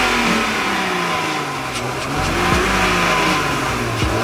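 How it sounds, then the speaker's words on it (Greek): A car engine, already running, is revved up hard and held at a steady roar, close and loud with no talking over it. "Το αμάξι πατάει και φεύγει"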